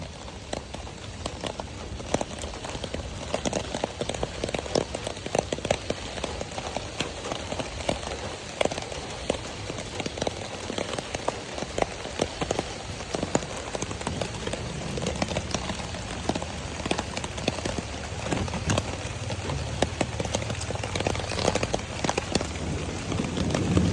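Heavy rain pours steadily onto a surface close by, a dense continuous patter that holds an even loudness from start to finish, with no voices heard.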